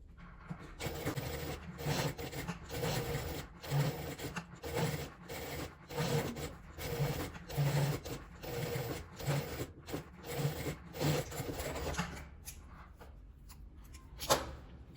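A sewing machine runs in steady bursts while topstitching close to the edge around a small fabric card purse, its rapid mechanical stitching pulsing in short runs and briefly stopping near the end.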